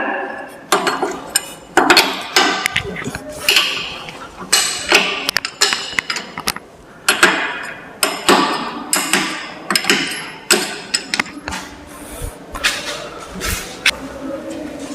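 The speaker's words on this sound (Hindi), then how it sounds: "ये जो आप नट बोल्ट देख रहे हैं इसे ढीला करना पड़ता है।" Steady series of metallic clinks and knocks from nut bolts being worked loose on a radial drilling machine, close and fairly loud, repeating irregularly throughout with a workshop feel.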